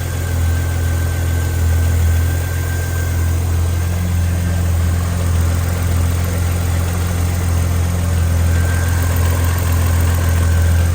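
Car engine idling steadily with light valvetrain ticking and a faint rattle, a neglected skid car's motor running continuously at close range with a low, even rumble and no voices.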